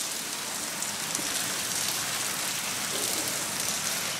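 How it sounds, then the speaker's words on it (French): Steady rain pours down during a storm, a dense, even hiss of drops on surfaces that holds constant throughout, close and fairly loud, with no voices. "Vous entendez sûrement le bruit de la pluie."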